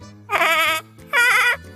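Two long, loud, quavering bleats in a person's voice mimic a big goat, heard up close and alone with a brief gap in between.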